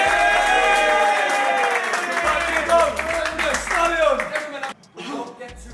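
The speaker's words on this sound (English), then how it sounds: "a round of applause for Dino" A football team claps and cheers together in a dressing room, lively mixed hand claps and shouts under loud overlapping voices and a tonal backing sound.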